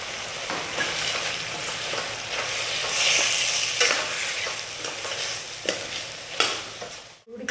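Ginger chutney with water and jaggery bubbles and sizzles in a pan, a steady, close crackle with occasional scraping stirs, fading out abruptly at the end.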